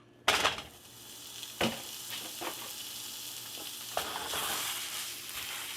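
A pound of ground beef frying in a hot skillet, a constant loud sizzle broken by sharp utensil scrapes and clatters against the pan as the meat is stirred and broken up.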